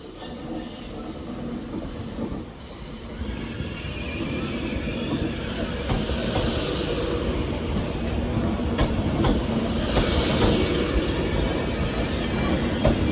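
British Rail Class 323 electric trains arriving at Manchester Piccadilly, a steady rumble of wheels on track with faint squeals and clicks, building slightly in loudness over the whole stretch with no voices.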